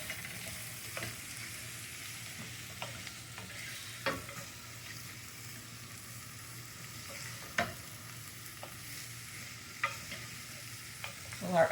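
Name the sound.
stirring and browning food in oil, sizzling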